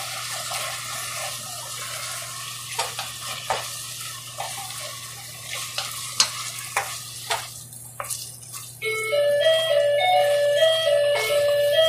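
Tuna mushroom spaghetti sauce stirred in a pan, with soft scraping and clinking strokes and a steady sizzling hiss under an ongoing tonal hum, before a louder melodic tone enters near the end.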